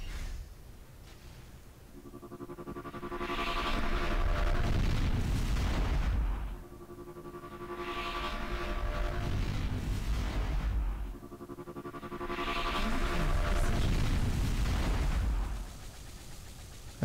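Turret fire in Unreal Tournament, likely a shock or laser turret: three long, loud, roaring bursts with a booming low end and a ringing tonal hum, separated by brief dips in level.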